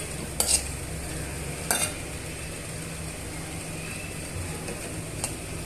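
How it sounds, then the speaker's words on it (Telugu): Dry fruits fry in ghee in a pan with a soft, steady sizzle, and a spoon scrapes and clinks against the pan a few times, fairly quiet and with no talk. "ఈ గీలో డ్రై ఫ్రూట్స్ని వేగనివ్వాలి ఒక రెండు నిమిషాలు అలా వేయించేసుకుందామండి"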